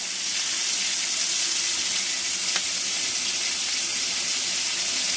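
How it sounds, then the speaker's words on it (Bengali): Tomato frying with spices in a pan for a pointed gourd kofta curry, a continuous loud hissing sizzle held steady throughout, close up, with no talking. "টমাটমটা একটু ভেজে নিচ্ছি"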